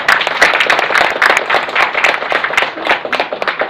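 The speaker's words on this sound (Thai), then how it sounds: "ปรบมือให้อัพไลน์เราหน่อยครับ" An audience at a business seminar applauds its uplines with dense, continuous clapping that is loud and close and carries no talk.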